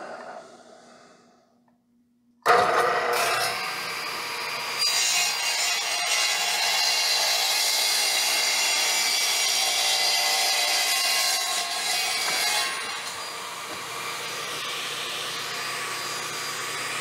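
Saw cutting through expensive planed lumber for a cremation urn, a loud continuous harsh cutting noise starting abruptly after a quiet moment and running steadily to the end.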